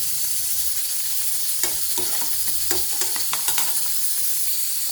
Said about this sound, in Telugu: కొంచెం దంచి పెట్టుకున్న అల్లం వెల్లుల్లి వేయాలి.